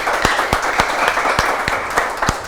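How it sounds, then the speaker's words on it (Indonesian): An audience at a stage comedy show on financial planning applauds, a loud, close crowd of clapping hands with sharp individual claps standing out from the steady patter for a few seconds. "Terima kasih atas tepuk tangannya semuanya."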